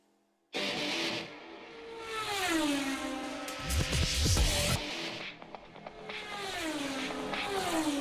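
At Brands Hatch, Golden Era superbikes race past in a Thundersport GB round. Engines roar in and scream up through the gears as bikes sweep by, with a dense cluster of passing machines midway and more engines rising again toward the end.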